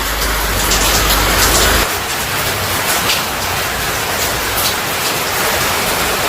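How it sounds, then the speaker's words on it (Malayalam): Heavy rain pours down in a steady, dense roar that fills the whole clip, loud and close, with a low rumble in the first two seconds and no voices. "നല്ല മഴ"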